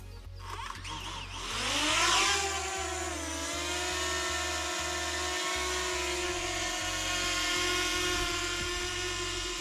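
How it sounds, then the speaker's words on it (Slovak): A DJI Mavic Mini drone whines as it spins up, climbing in pitch. It then settles into a steady, high buzzing hover close by, with faint thumps underneath. "Dron si drží stále svoje miesto"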